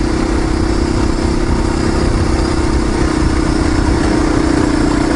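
A dual sport dirt bike with a 4-gallon tank runs its engine in a steady, loud, unbroken drone with no changes in pitch and no voices.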